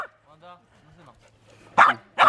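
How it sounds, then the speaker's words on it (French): Dogs bark loudly in two sharp bursts near the end, preceded by whimpers and yips, with someone speaking French softly over them at home. "Il y a trop de chiens là."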